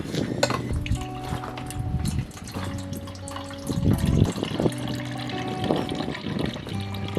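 Liquid draining out of a bokashi kitchen waste bin into a container, a close trickle and splash with light clinks of the bin and container, no talking.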